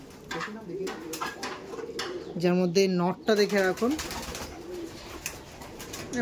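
Pigeons coo in soft, throaty bursts close by, overlapping with someone talking nearby.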